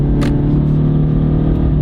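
A Honda car drives along a curvy road, its engine giving a steady, fairly loud rumbling drone with a low hum throughout and no voices.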